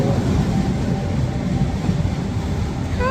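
Steady broadband rumble and rattle of a moving train carriage, heard from a passenger seat inside a train in Lisbon, Portugal, continuous and fairly loud with a faint rising whine near the end.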